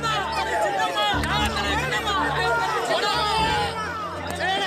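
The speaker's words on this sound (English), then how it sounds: "the crowd went into a frenzy." An excited crowd of party supporters on a roadside at night in Vellore cheers and shouts in a dense, continuous babble of many voices, loud and close throughout.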